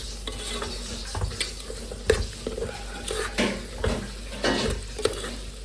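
Kabsa rice mixture being stirred in a pot over the heat, with steady soft scraping and sizzling plus a few sharper utensil knocks against the pot, close and alone.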